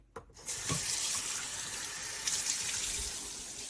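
Kitchen sink tap turns on and water runs steadily into the basin, a soft continuous gushing hiss after a brief quiet start, alone and fairly close.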